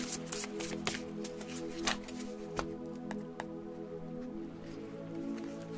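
A deck of tarot or oracle cards is cut and shuffled by hand, quiet close riffling and flicking with several sharp card slaps, while a low steady hum sits underneath.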